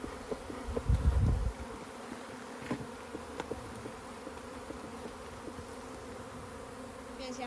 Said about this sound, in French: encore plus d'abeilles dans l'air